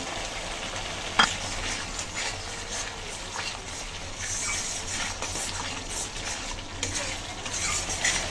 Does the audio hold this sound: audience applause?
no